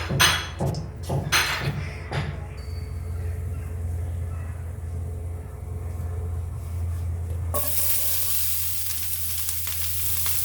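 Onion and chili dropped into hot oil for a tuna fish dish: a few sharp clatters at first, then a steady loud hiss of sizzling that brightens suddenly near the end.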